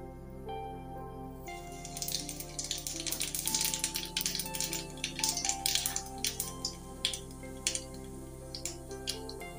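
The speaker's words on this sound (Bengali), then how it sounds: "তেলটা গরম হয়ে গেলে এই কালো জিরাটা ফোড়ন দিয়ে দেব।" Black cumin seeds tempering in hot oil in a wok, giving a busy, irregular crackle of sharp pops and ticks that starts abruptly and continues throughout, close and moderately loud over a steady low hum.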